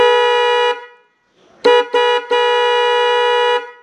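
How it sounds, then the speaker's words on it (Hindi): An Autofy dual tone horn fitted to a motorbike sounds loud, close bursts: a long steady two-tone blast, a pause, two short toots, then another long blast. "तो ये साउंड है इस ऑटोफाई डुअल टोन हॉर्न का"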